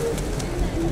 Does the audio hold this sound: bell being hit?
no